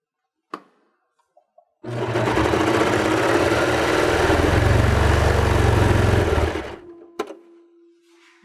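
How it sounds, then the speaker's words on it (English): A serger runs in one sustained mechanical whir for about five seconds, serging a fabric edge, loud and close, with a few clicks and taps before and after. "we are just going to serge both of these short ends of the fabric."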